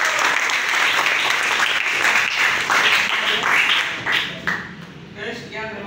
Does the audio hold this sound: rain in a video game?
no